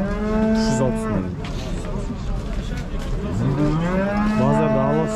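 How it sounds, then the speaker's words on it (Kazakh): Cattle at the Merki livestock market moo in long, deep calls at close range, one at the start and another near the end, over a constant hubbub of crowd chatter. "Базарда ала сиырлар көбейіпті онда"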